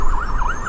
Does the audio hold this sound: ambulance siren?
yes